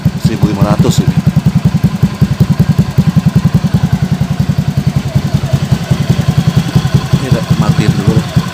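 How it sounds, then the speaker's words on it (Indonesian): A Honda Beat ESP scooter engine idles below 1500 RPM with a steady, rapid low putter that stays close and loud for the whole stretch, with a few faint clinks on top. "dia dalam keadaan idle aja rodanya masih bisa mutar gitu, padahal ini RPM nya masih di bawah RPM 1500 ini."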